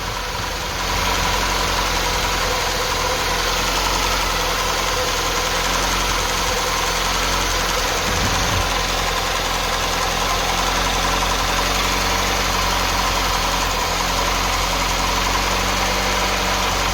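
An Austin Ambassador Vanden Plas engine idles steadily and loudly after carburettor balancing, a continuous even rumble close by with no break or talk.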